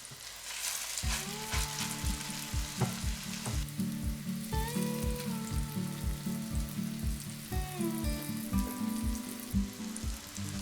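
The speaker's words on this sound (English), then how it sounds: "Now let them fry for about 6 to 7 minutes on that first side." Hash brown patties frying in a pan, a steady, close sizzle and crackle of oil with a faint intermittent hiss running throughout, no voices.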